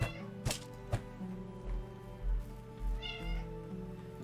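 A pet cat meows indoors, several clear calls close by, with a soft thump and some game or room noise underneath.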